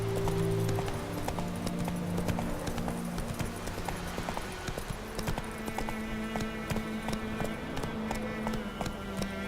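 The horse Roach trots on a road in The Witcher 3, its hooves clip-clopping in a steady, fairly close rhythm over a soft background bed of game music and ambience.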